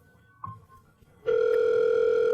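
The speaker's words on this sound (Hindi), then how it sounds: "तभी काउंटर पर फ़ोन बजा" A telephone on the counter of a Domino's pizza shop begins ringing partway through, a loud, steady electronic tone that follows a few faint sounds and holds to the end.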